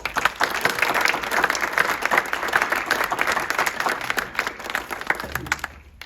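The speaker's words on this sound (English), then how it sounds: "Round of applause, round of applause." A round of applause from an audience at a career event, many hands clapping steadily and fairly loud for several seconds before tapering off and stopping near the end.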